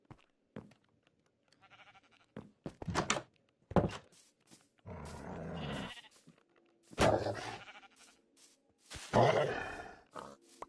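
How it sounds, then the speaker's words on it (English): Sheep in Minecraft give several distinct bleats at irregular intervals, close and fairly loud, separated by quiet gaps and a few short thumps. "I need the sheeps. I actually need the sheep."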